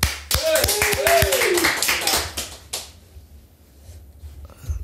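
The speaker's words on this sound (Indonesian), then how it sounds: "Jadi kita harus applause dulu." A brief burst of quick hand claps from a few people, overlapping with speech, then fading into quieter room noise.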